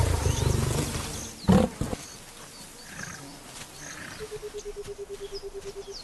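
Lions roar in the wild: a loud, close burst, then a steady run of deep, rhythmic grunting pulses that fade toward the end.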